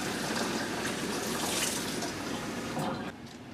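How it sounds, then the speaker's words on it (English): Water pours steadily from a tap into a pan surrounding a springform pan for a gingerbread cheesecake water bath, a loud continuous rushing splash that drops off abruptly near the end. "you're going to put the water right here to about 2 inches to the top of the springform pan"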